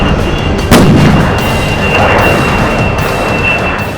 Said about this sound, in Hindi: वो पंकु ने पटाखा चलाया था ना,